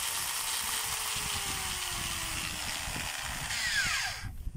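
Stanley grinder running loudly with a strong, steady high-pitched whine held close for several seconds, its pitch sagging slightly, then winding down and cutting off near the end, no voices.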